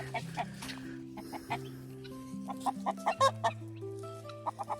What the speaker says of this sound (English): there's a chicken trying to get into my garden